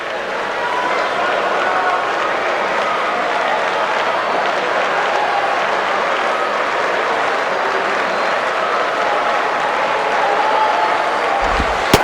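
Steady crowd ambience in a baseball stadium in MLB 10: The Show during a quiet mid-innings lull, a soft, even murmur of spectators holding at a constant level.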